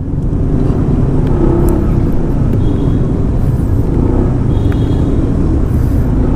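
Queued car traffic on a Makati street gives a constant loud rumble of idling and creeping engines, with a steady roadside wash and no talking.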